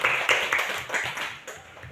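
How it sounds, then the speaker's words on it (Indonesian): A class of students claps for a classmate who answered correctly, giving brief uneven bursts of hand claps close by with a teacher's voice nearby. "Bagus, tepuk tangan buat teman Dion."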